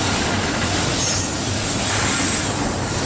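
A CSX freight train rolls past close by with a loud, continuous roar of wheels and rail noise and a faint high squeal over the top.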